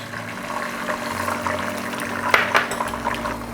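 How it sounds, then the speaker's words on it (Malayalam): Sunflower oil trickles into a pan in a soft, close liquid pour with a faint steady hum beneath and a couple of light clinks near the end; no voices. "നമ്മൾ സൺഫ്ലവർ ഓയിലാണ് ഒഴിച്ചു കൊടുക്കുന്നത്"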